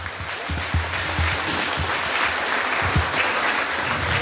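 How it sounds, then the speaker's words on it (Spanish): Wedding guests at a reception meal in Santiago Cuixtla, Nopala, give the master of ceremonies loud, sustained applause, a dense clatter of many hands with a few heavier thumps mixed in. "el licenciado Eduardo Cruz Moreno, para que pida un fuerte y caluroso aplauso."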